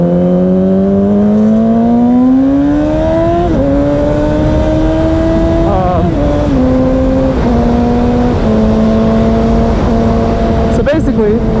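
Yamaha R6 600cc sport motorcycle accelerating hard in first gear, a loud, close engine wail climbing in pitch, then dipping and holding high through several shifts, with no talking.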